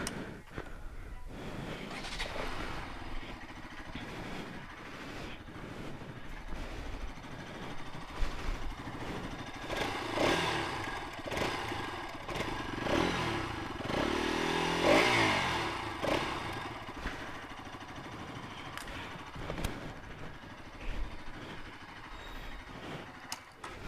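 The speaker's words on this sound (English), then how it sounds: "first we'll be checking out the exhaust sound of this bike" A Bajaj Pulsar RS200 motorcycle exhaust rumbles and idles, with repeated throttle blips rising and falling over roughly twenty-four seconds, close and fairly loud.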